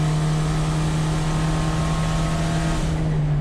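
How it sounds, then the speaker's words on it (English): A VW Jetta GLI Super Touring race car runs steadily on track at Thunder Hill Raceway. A constant low engine drone sits under a broad, airy hiss from a boost leak, loud and unbroken. "that boost leak you're hearing there"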